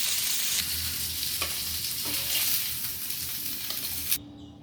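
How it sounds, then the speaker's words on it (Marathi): Mackerel coated in coconut masala frying crisp in a pan for a Konkani bangda fry, with a steady hiss and sizzle, a few stirring knocks, then a sudden cutoff as the sizzling stops. "व्यवस्थित बांगडा भाजून घ्यायचा आहे क्रिस्पी असा"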